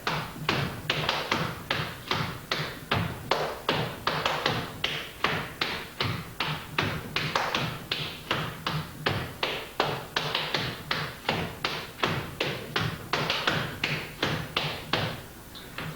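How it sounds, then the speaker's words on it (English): Flatfooting dancer performing the jerry step, a continuous back-and-forth pattern of shoe taps and chugs on a hard floor: rapid, rhythmic, crisp strikes with heavier thuds mixed in, close and steady throughout, without talk. "So the jerry continuously back and forth would look and sound like this."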